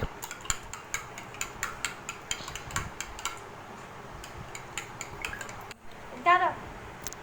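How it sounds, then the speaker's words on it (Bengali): Eggs being whisked in a bowl while caramel is prepared, giving a quick, regular run of light clinks and taps. Background noise stays steady underneath, and the tapping breaks off near the end for a brief louder scrape. "এখন আমার আম্মা ডিম দিচ্ছে, তো আরেকটা ডিম দিচ্ছে, তারপরে মিক্স করে নিচ্ছে"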